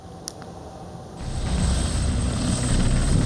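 A helicopter used to evacuate workers in Papua, its rotor and engine noise rising from faint to a steady, loud drone over a few seconds, with no talk.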